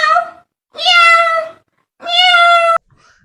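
A voice imitates a cat with three loud, drawn-out meows separated by short pauses, each one rising and then falling in pitch.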